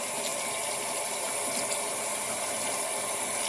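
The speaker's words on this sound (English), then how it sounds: "you put it in the sink and you drain and you run your cold water over the top" Cold tap water runs steadily over drained rice in a sink, a constant loud rushing splash with no voices.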